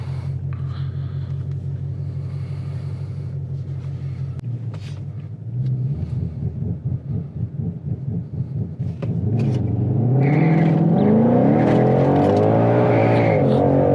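A 2021 Ford Mustang GT500 launches down a drag strip, its engine rumbling at idle, then revving hard through rising gear pulls with a loud, sustained roar that climbs steadily toward the end.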